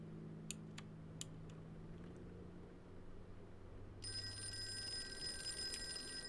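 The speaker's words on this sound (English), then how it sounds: "The phone is ringing." A telephone starts ringing partway through, a thin, high electronic ring that continues to the end, heard in the Call of Cthulhu video game over a quiet, low ambient hum.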